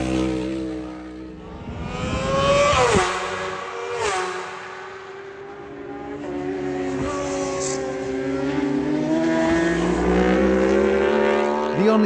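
Racing motorcycles scream past on the Isle of Man TT road course, their engine notes rising and falling as several bikes pass by in succession, loud and fairly near.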